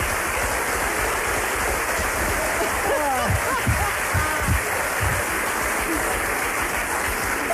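Dense, steady clapping from a theatre revue audience fills the whole stretch, a broad hiss of many hands, with a few brief louder accents midway.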